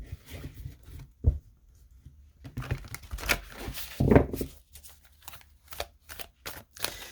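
Spirit animal oracle cards are shuffled by hand close up, with irregular soft riffles, slaps and papery swishes coming in bursts, separated by short quiet gaps.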